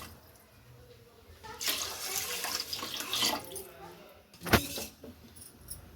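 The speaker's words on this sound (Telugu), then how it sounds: "టూ గ్లాసెస్ వాటర్ అనేది యాడ్ చేసుకుందాము" Two glasses of water are poured into a pot of basmati rice for veg kuska in a short, splashy burst, followed by a quick clatter and then quiet.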